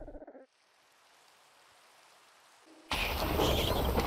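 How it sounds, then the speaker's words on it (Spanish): Thunder striking during rain in Minecraft: a quiet hush of rain, then a sudden loud crack that opens into a sustained roar of heavy rain and rumble to the end. "Y ahí está, cayó el trueno"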